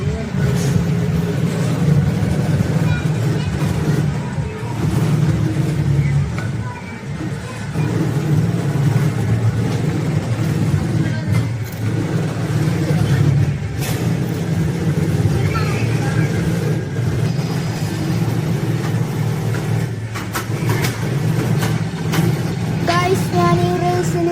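Simulated car engines from an arcade racing game at a family fun zone in a North Paravur mall, droning and revving continuously at loud volume, with a person talking over the game sounds.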